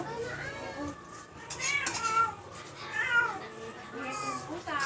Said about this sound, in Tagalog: maingay yung pusa namin